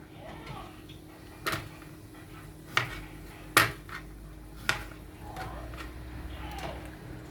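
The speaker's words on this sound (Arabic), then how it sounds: "تعالوا نفرم السلطة" Knife chopping salad vegetables on a board in a home kitchen, a handful of sharp, separate knocks spaced irregularly over steady low room noise, with someone talking in between.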